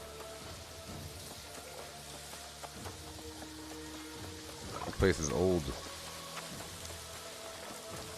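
Steady rain hisses across the whole stretch in the fantasy game New World, with a brief louder burst of activity midway, while a voice talks over it.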